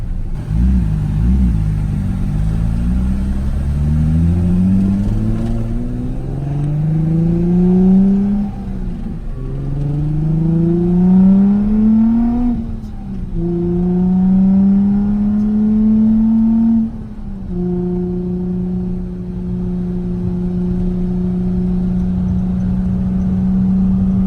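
A Nissan 350Z on a dirt road, engine revving up through several gears in rising sweeps before settling into a steady cruising drone, loud and close from inside the car, with no talk.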